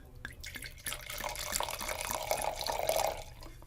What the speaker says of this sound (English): I hope you can hear the pour